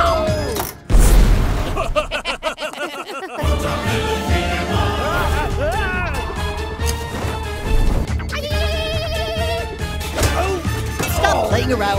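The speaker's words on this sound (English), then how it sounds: "It's a bomb!" A loud, sudden bomb explosion crashes in among busy cartoonish Mortadelo y Filemón: Mission Implausible game sounds, bleating effects and music, with short bursts of impact noise.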